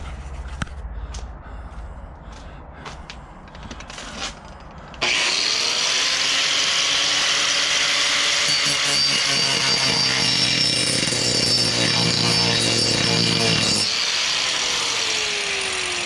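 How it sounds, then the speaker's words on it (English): A Harbor Freight power tool cuts a quarter-inch-deep groove into a wooden stringer. A few faint clicks come first, then a loud, steady, high whining grind that holds close and continuous and dips in pitch near the end. "I just dug a groove 1/4 inch deep in that wood."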